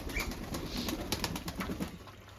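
Pigeons close by in a new loft, with soft rapid wing flaps and faint shuffling over a quiet background, no talking.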